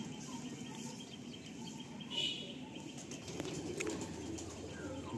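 Pigeons at a loft coo softly, with scattered chirps and a brief flutter of wings. The sound is faint and distant, with quiet background noise underneath.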